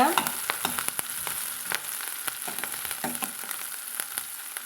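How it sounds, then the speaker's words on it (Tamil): Okra with curry leaves sautéing in a pan for an Andhra-style tangy tamarind-tomato okra dish, a constant high sizzle broken by repeated scraping and stirring strokes of a spatula, close and clear with no voices. "கருவேப்பிலையும் சேர்த்து நல்லா நம்ம வதக்கிட்டுக்கலாங்க"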